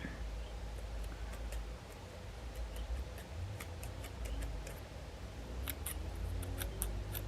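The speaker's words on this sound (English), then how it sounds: "take your scissors and just start cutting away" Scissors snipping through the lace of a frontal wig, a rapid run of small crisp clicks close by over a steady low background hum, growing slightly denser toward the end.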